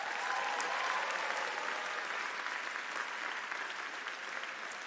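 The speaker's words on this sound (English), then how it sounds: "everybody give them a round of applause" Steady, sustained applause from a large audience at a conference session, honoring the parent volunteers seated up in the balcony; a dense wash of clapping with no talk over it.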